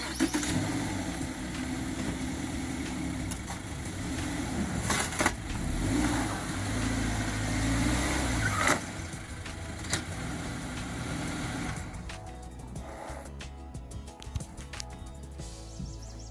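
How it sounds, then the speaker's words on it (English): 2019 Subaru Impreza engine idling steadily after a warm-up, a close, even hum with a few brief clicks and knocks, the tone shifting and lightening near the end. "now I've warmed the car up for 10-20 minutes, so the engine is running and circulating the oil"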